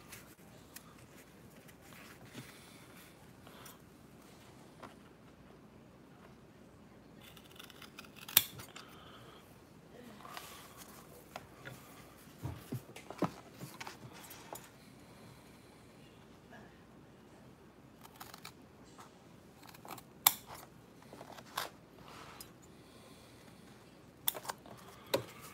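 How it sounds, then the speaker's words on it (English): Scissors snip through fabric for a stadium game day bag, giving repeated crisp cuts in uneven bursts over a quiet room, close and moderately loud. "These scissors."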